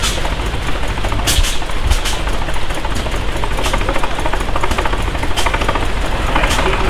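An engine chugs and rumbles steadily at idle, loud and close, with a rough mechanical texture and occasional clanks, from a 1948 Farmall Super A tractor at a vintage power show.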